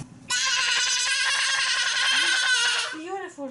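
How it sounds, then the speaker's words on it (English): A loud, sustained sheep bleat rings out close by for a few seconds, followed by short higher squeaky calls, likely from a toy or recording. "And what sheep says?"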